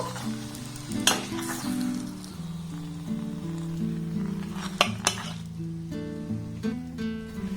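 A spinach and wheat-flour paratha frying in a pan hisses softly under a steady hum, punctuated by a few sharp clinks of a metal utensil against the pan.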